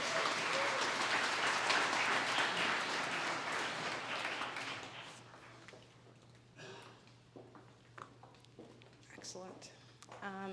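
Audience at a wedding ceremony applauding, dense clapping that fades after a few seconds into scattered claps, light sounds and murmured voices.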